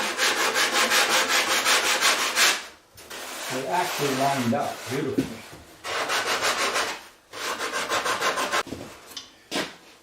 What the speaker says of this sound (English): Mostly the sanding is on those sections where the section went together.